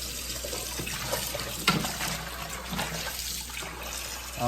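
Tap water runs steadily into a sink as raw meat is rinsed, a continuous close gush with a few small splashes and knocks.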